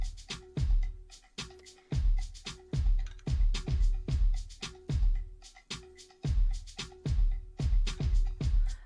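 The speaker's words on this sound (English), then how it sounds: "That's our drum." A drum percussion loop from a beginner producer's recreation of a pop song, with punchy low kicks and crisp hits repeating in a steady, tight rhythm, loud and alone without talking.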